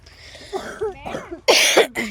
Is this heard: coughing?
yes